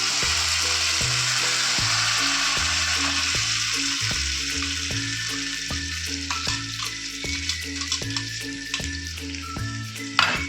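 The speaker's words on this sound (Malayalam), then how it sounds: "സവാള ഒന്ന് വാടിക്കഴിയുമ്പോഴേക്കും അതിലേക്ക് ടൊമാറ്റോ അടിച്ചതൊന്ന് ചേർത്തെടുക്കാം." Blended tomato hits frying onions in a pan for masala pasta, giving a loud, dense sizzle that starts strong and slowly settles while a faint rhythmic background clatter runs underneath, with no talking.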